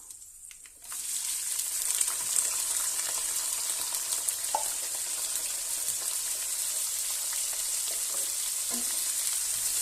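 Four large sliced onions dropped into hot oil in a pan for chicken biryani, a brief quiet moment then a loud, steady crackling sizzle that holds close and continuous, with no talk.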